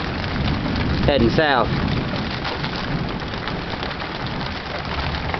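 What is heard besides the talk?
heavy rain during a late summer storm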